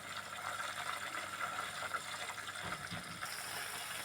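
Butter melting and boiling in a pan while ghee is made gives a steady, dense bubbling hiss that runs unbroken at an even level with no talk.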